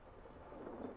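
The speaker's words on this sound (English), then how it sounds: "I thought I heard thunder and rain." Thunder rumbles low under steady rain in Fallout 76's outdoor wasteland near Sutton, a dense continuous wash lasting about a second with no voices.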